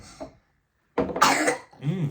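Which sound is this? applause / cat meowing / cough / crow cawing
cough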